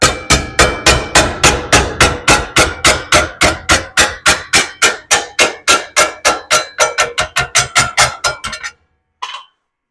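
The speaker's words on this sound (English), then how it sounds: "Now let's get the hammer in here." Hammer striking sheet metal to bend a Plymouth Duster inner fender repair panel, a rapid run of about thirty loud, sharp, ringing blows in steady rhythm, then a brief pause and one last tap.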